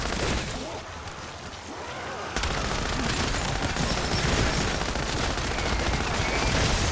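MP40 submachine gun in Call of Duty Zombies blazing away in sustained automatic bursts, dense and loud, with a brief lull before continuous fire resumes.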